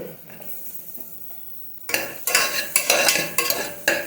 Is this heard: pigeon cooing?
no